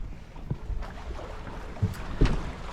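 Wind blows across a sailboat cruising at about four knots near the coast, a steady rushing buffet with occasional louder gusts and low thumps against the microphone, close and continuous without voices.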